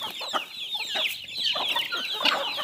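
Hungry farm chickens clucking in the morning as corn is scattered for them. Many overlapping clucks and short squawks come from close by in a busy, continuous chatter, with no talking.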